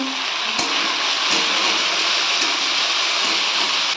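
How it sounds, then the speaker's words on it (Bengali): Chopped tomatoes sizzle in a pan of oil with green chilli and cumin over a medium gas flame, a steady loud frying hiss with a few faint clinks. "আমি এর মধ্যে কেটে রাখা টমেটো কুচিগুলো সব দিয়ে দিলাম"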